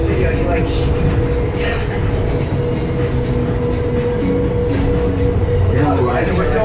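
A Las Vegas Monorail train rides along its track, a loud continuous rumbling drone with a steady hum and occasional rattles heard from inside the car.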